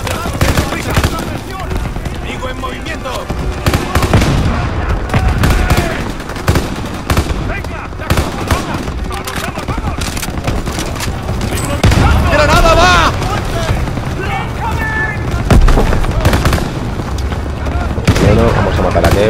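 Sustained Call of Duty WW2 combat: bursts of machine-gun fire and scattered gunshots crackle loudly and almost continuously, with heavier booms mixed in and a voice talking over the battle.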